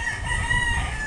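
A hen calls close by in a backyard coop where rabbits are also kept, with a steady, fairly loud vocalizing over a constant rural background hum and no talking.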